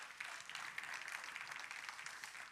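A church congregation applauds together, a dense, steady wash of clapping that fills the whole moment at an even level, with no voices rising above it.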